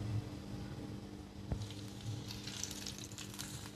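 Oil warming in a non-stick pan over a medium gas flame gives off a faint, steady low sizzle and hiss, quiet and even, with a tiny tick partway through and no voices.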